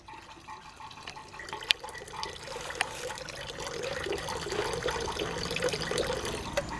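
Lime water pours into an organic fertilizer mix as a soft, steady trickle of liquid, close and fairly quiet, gradually getting fuller over a few seconds.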